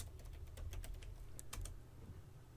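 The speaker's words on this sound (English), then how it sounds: "I'm going to come in here and type in root and then the password." A password is typed on a computer keyboard, a quiet, quick run of light key taps over a low steady hum.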